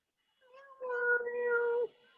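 A person imitates a cat, giving one drawn-out, wavering meow that rises and then holds steady for about a second. It comes close and fairly loud over a quiet background during a playful online rehearsal.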